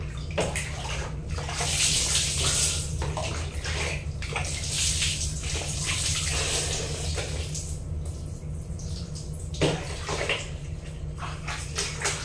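Water is poured from a basin to rinse hair during a bath, splashing and gushing in steady pours with brief pauses, close by and fairly loud, with no talking.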